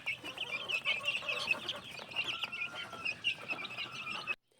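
Young game-farm cockerels cluck and chirp continuously at close range, a busy overlapping chatter of chicks that cuts off abruptly at the end.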